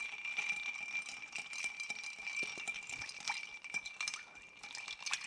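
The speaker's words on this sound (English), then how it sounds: "Going to add a little ice. Give it a good stir." Ice rattling and clinking against glass as a spoon stirs an Irish Old Fashioned cocktail, a steady close jangle of cubes lasting the full span without any talk.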